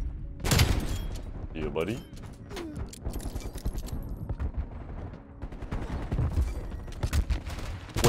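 Rapid pistol gunfire in a Black Ops match, with bursts of several close, sharp shots scattered through the clip alongside other game effects while someone talks over the action.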